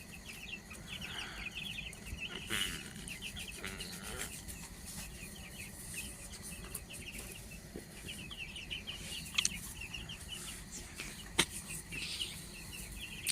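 Young rooster chicks cluck and peep in a group over about thirteen seconds, a faint, continuous chatter of small calls with occasional sharper cheeps and light knocks.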